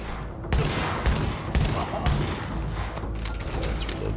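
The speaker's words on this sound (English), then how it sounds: "Shooting my shotgun." A shotgun fires in The Division shooter game, about six sharp, loud blasts spaced roughly half a second apart over a busy combat background.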